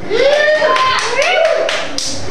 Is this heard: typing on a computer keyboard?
no